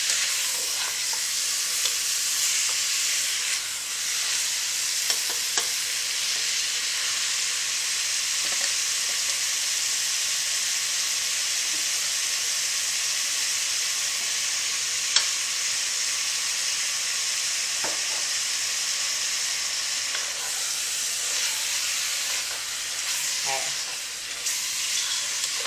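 Lean ground beef fries in a pan for gluten-free chili, a loud, steady sizzle that runs throughout, broken now and then by faint scrapes of stirring.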